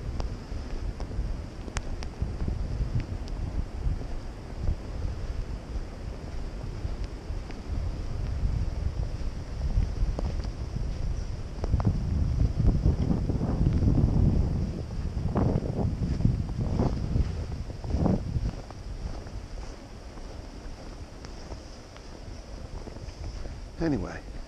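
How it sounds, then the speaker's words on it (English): Strong gale wind buffets the microphone on an outdoor dog walk, a loud continuous low rumble that swells into heavier gusts midway before easing slightly. "Here comes a hurricane force gale."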